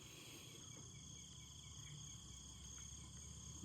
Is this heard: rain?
no